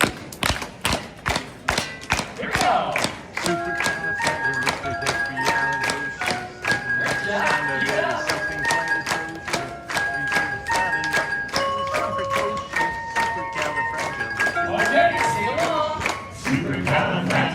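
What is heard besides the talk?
crowd clapping along to a Disney sing-along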